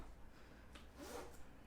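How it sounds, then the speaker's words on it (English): A zipper drawn shut on a Givenchy Antigona Mini handbag, one brief smooth rasp up close, quiet and alone. "It zips up so easily, so nicely."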